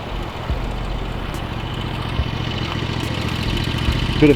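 A lawnmower engine runs steadily while mowing a home lawn, a continuous close mid-pitched drone with a slight rise toward the end, heard alone.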